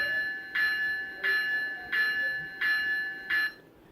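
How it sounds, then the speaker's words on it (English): Electronic bell from an ESU LokSound decoder in an Intermountain BNSF ES44C4 model locomotive, ringing in five evenly spaced strikes with a steady tone that shuts off abruptly after the last one, fairly loud and close. "This is the bell."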